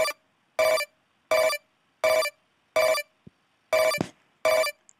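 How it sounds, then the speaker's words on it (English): Recorded telephone-style tone bursts used as an element in a music track pulse in a regular repeating rhythm, seven loud evenly spaced beeps separated by silence, with a brief click and swoosh near the end. "the other elements I've got, these like dial tone sort of things"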